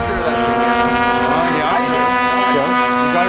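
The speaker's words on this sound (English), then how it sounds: "Definitely some good prop rip there" A model aircraft's propeller rips loudly during a full-throttle downwind left turn at an RC flying field, a sustained buzzing engine whine with shifting pitch, close and continuous, with wind noise over the microphone.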